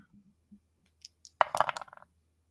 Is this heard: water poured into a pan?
no